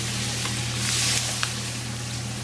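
Steady sizzle of food frying in a pan while cooking a mussel soup, a continuous crackle with a few brief pops over a low constant hum, no voices.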